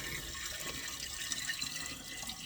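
Water pours steadily into a container until it is nearly full, a continuous close splashing stream with no voices.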